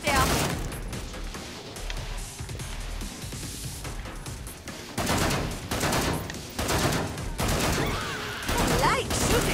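Rapid gunfire from the video game Killing Floor 2, with dense bursts of automatic shots and heavy volleys repeating throughout, loud and close, mixed with game noise.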